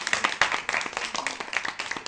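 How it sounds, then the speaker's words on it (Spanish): Clapping from an audience welcoming the magician Lorien at a tribute event, a brief burst of scattered hand claps with some voices mixed in. "Por favor, dar un aplauso al mago Lorien."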